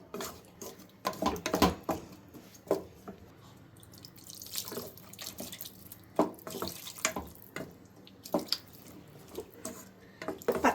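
Water is poured and splashed into a jar while cooking cauliflower peas masala, with irregular gurgles and trickles mixed with light clinks of utensils and containers, close and moderately loud.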